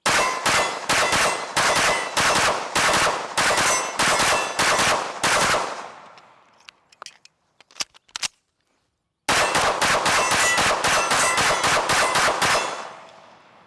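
Rapid strings of close, loud shots from a Springfield Armory DS Prodigy Comp AOS pistol, an evenly spaced volley, a pause with a few metallic clinks, then another steady string of shots.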